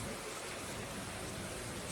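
Heavy rain pours down steadily in Portland, Jamaica during stormy weather, a dense, continuous hiss of downpour filling the whole moment with no pauses.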